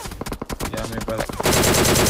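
Rapid automatic gunfire from a battle royale video game, dense sustained bursts that grow louder and continuous toward the end, close and loud with no talk.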